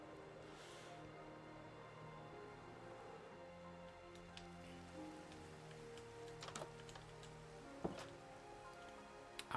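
Rain falling in Minecraft, a soft continuous patter with occasional distinct drops and faint ticks over quiet background music, no talking.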